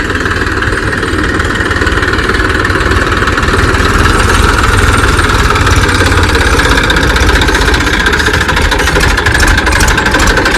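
A tractor engine idles close by, a loud, steady, unbroken rumble with a fine rapid vibration running the whole time and no voices over it.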